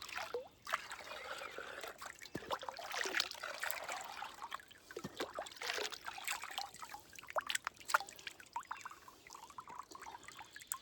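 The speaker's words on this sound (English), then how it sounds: "we're going to fill the bag with water" Water trickles and pours into a bag from a water disinfection kit, a soft, irregular splashing and dribbling stream that goes on steadily, fairly quiet and close, with no voices.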